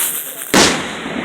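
A single firework bursts during an Independence Day celebration, one sharp loud pop that breaks a low steady background hiss and then fades.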